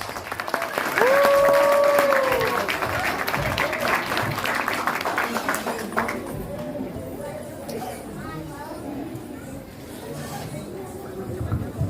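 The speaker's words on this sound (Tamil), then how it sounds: "Please, can you give a round of applause?" An audience applauds performers called onto a stage, a dense burst of clapping that starts loud and fades over several seconds. A short tonal sound rings out early, and people chatter underneath.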